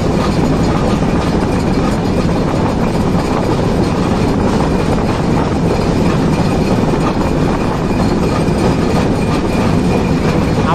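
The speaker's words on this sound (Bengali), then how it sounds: "লোহার খাঁচায় প্রবেশ করতে যাচ্ছে আমাদের ট্রেন" The intercity Chilahati Express rumbles steadily onto an iron truss bridge, a loud continuous roar of wheels and carriages with faint rhythmic clatter heard from aboard, and no voices.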